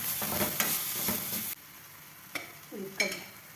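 A spoon stirs a curd and sugar mixture in a bowl with soft scraping strokes, a few sharper clinks of metal against the dish near the end.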